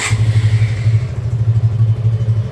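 A Suzuki Gixxer Monotone 2025 motorcycle engine idles close by, a loud, steady low pulsing throb running without break after it catches.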